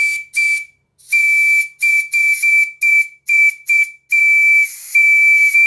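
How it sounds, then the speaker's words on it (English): A small PM Research steam whistle blown with compressed air gives a loud, piercing single-pitched tone in a string of short and longer blasts separated by abrupt silences, close and with no talking. "the volume level from this small whistle is deceptively loud."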